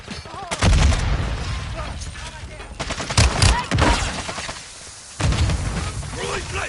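Dense bursts of automatic and single gunfire from the Modern Warfare 2 DMZ game, loud and close, crackling in rapid clusters with brief lulls between volleys, with game voice callouts mixed in.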